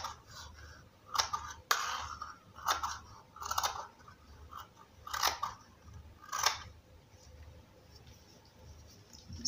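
Scissors cut out pieces of shirt dress fabric, a series of crisp, close snips in irregular bursts with quiet gaps between them.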